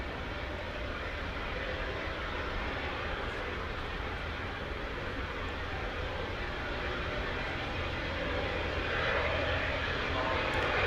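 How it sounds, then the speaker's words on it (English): A jet airliner departs DFW Airport at night with a continuous broad roar that holds steady and swells slightly toward the end, heard from a spotting position with no talk over it. "So here goes the flight to San Jose."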